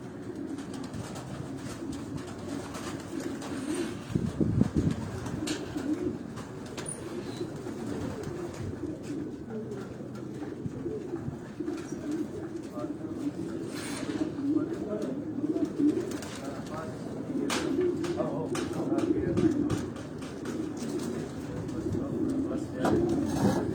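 Racing pigeons coo steadily inside a loft in Quetta, a low continuous murmur of many birds with occasional louder bursts, heard under background activity and faint voices throughout.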